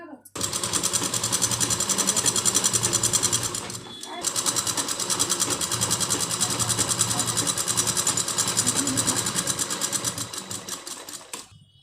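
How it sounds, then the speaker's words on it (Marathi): A sewing machine runs steadily while double-stitching the inside lining of a blouse, a close, continuous motor whir broken by one short pause, with a voice talking over it. "ह्याला आपण आतून डबल शिलाई मारून घ्यायची"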